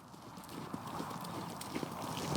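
Horse hooves clip-clopping steadily on an arena surface during a dressage lesson, a continuous rhythmic patter of footfalls at moderate distance with occasional faint voices in the background.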